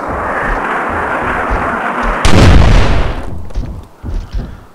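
In the Myth II Soulblighter video game, mortar fire goes off: a heavy close blast bursts out after steady rumbling battle noise, followed by a few smaller thumping explosions.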